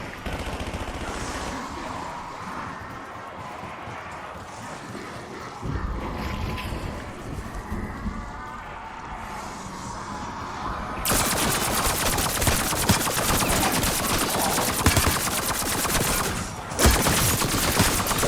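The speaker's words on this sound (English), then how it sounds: "Sentry turret's live." A sentry turret fires in a Call of Duty Zombies match on the Terminus map, breaking into a loud, sustained rapid stream of shots in the second half after a quieter, rumbling stretch of game ambience.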